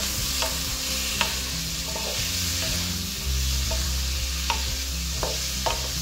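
Boiled chickpeas fry with dried chillies in a pan for channa sundal, giving a steady sizzle throughout while a spoon scrapes and stirs in occasional close strokes.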